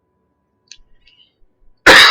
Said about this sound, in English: I need to cough desperately